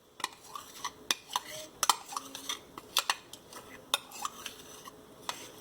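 A metal spoon clinks and scrapes against a bowl while mango ice cream ingredients are stirred together, giving irregular sharp taps and short scraping strokes, close and fairly quiet, with no talking.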